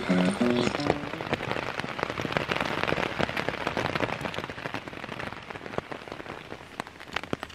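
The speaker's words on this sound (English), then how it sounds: "Rained pretty hard overnight," Steady overnight rain in a forest in Galway, Ireland, patters on a hard surface, with scattered sharper drops tapping throughout, continuous and fairly close.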